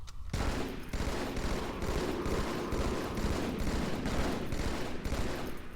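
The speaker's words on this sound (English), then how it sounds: "I'm gonna shoot this guy's arms off just because it's kind of an annoying spot." Rapid, continuous gunfire from Halo 2 rattles out in loud, dense bursts with a regular pulsing rhythm as an enemy's arms are shot off, with no talking over it.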